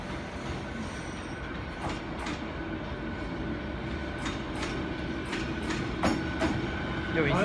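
A Taiwan Railway EMU600 local electric train on the Liujia Line passes close by, a steady loud rumble of wheels on rail with repeated sharp clicks and squeals building toward the end, with people talking quietly nearby.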